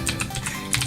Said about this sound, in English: Do you have a mechanical keyboard?